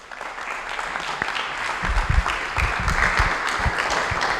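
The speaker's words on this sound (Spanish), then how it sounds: "Recibámoslo con un fuerte aplauso." A crowd at a talk on marriage welcomes a couple with loud applause, clapping swelling after the first second and staying dense and steady to the end.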